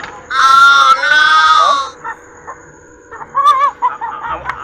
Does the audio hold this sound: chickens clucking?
yes